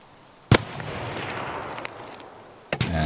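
Gunfire in the video game Escape from Tarkov: two sharp, loud shots about two seconds apart, each with a short echoing tail, over a steady outdoor ambience.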